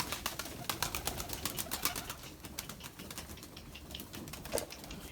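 White Erzurum pigeons, breeding birds and their young, fill a loft with a steady mix of soft cooing and rustling wing and foot movement, close and continuous, with brief clicks and flutters scattered throughout and no voices.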